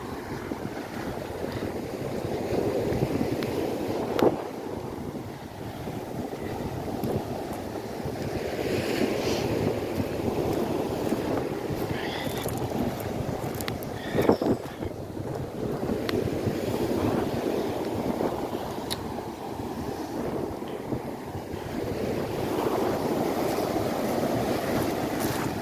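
Steady broadband wash of surf rolling onto the shore at Gorleston beach, with wind buffeting the microphone throughout; a couple of sharper thumps break through, no voices.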